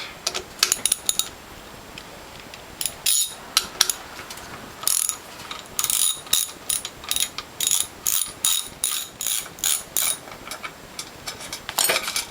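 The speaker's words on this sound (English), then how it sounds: "the next step is to remove the bolt that holds on the hydraulic reservoir and the two bolts that hold on the pump" Ratchet wrench clicking as bolts come off the hydraulic reservoir and pump of a Norwalk juicer, quick repeated bursts of ratcheting with short pauses between strokes, close and fairly loud, no talking.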